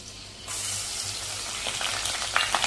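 Ginger-garlic paste drops into hot tempering oil for a Maharashtrian chana usal, and a sudden burst of frying sizzle rises after half a second, growing busier and crackly toward the end.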